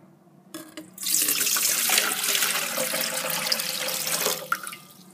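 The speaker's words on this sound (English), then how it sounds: "Pour the salt water into the rice cooker." Salt water pours steadily into a rice cooker, starting after a brief quiet moment with a sudden rush of splashing liquid that holds at a loud, even level for about four seconds before tapering off.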